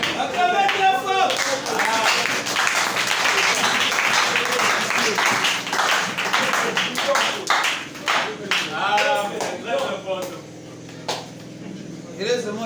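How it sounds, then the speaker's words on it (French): Church congregation clapping and applauding loudly and continuously, a dense wash of claps with voices mixed in, tapering slightly toward the end. "Acclamez très fort."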